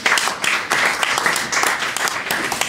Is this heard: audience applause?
yes